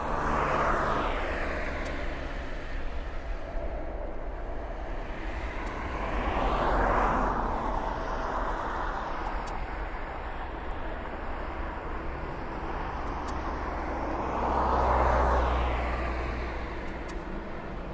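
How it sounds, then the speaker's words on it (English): A Boeing 777 airliner takes off at East Midlands Airport in the evening, a loud, continuous jet roar that swells and fades in broad sweeps as the aircraft passes, heard alone from a distance. "So there goes our 777"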